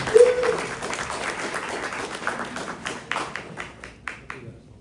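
A demo night audience breaks into applause, the dense clapping thinning out into scattered individual claps that fade away, with a voice speaking briefly at the start.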